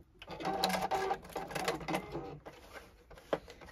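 A JUKI sewing machine back tacks along the edge of a tote bag strap, its needle rattling in quick bursts that stop and start, ending with a sharp click.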